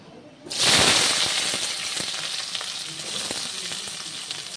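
Potatoes and onions hit hot mustard oil seasoned with panch phoron after a brief silence, bursting into a loud, close sizzle that settles into a steady frying hiss with occasional spatula scrapes.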